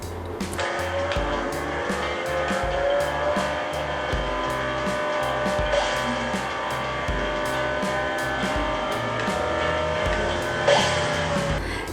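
Beach Buggy Racing plays loud buggy engines that drone and rev steadily, with rhythmic thumping game music and an occasional tire screech.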